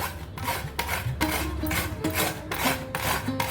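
Peeled beetroot rubbed against a metal grater in quick back-and-forth strokes, a close, steady rasping scrape repeating roughly every half second with no talking.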